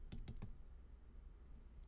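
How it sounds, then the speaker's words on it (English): Three quick plastic key presses on a graphing calculator keypad, evenly spaced near the start, then a faint hum and one tiny click at the end; no voices. "Just typing all this in."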